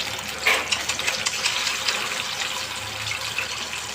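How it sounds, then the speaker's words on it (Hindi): Chicken pieces sizzle and bubble in hot oil, a steady close hiss of frying with a brief louder burst near the start as the first batch goes in; no one talks. "ऑयल रखा है, ऑयल गर्म हो गया है और अब मैं इसमें पहला बैच डालूँगी।"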